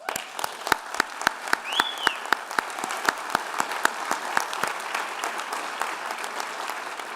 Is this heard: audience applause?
yes